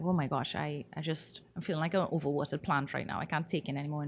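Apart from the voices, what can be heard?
No everyday noises stand out.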